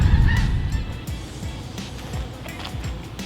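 A flock of snow geese on farm fields honks steadily in a noisy outdoor chorus, with a low rumbling background under the overlapping calls.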